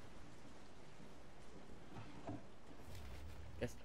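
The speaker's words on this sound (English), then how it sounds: "It's raining now." Steady rain falling in Resident Evil 7, a soft, continuous hiss of drops heard faintly in the background with a few scattered taps and a small knock near the end.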